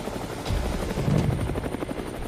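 Cartoon watermelon helicopter flying during a robot battle, a steady whirring rotor drone with low thumping pulses, loud and continuous, no talk.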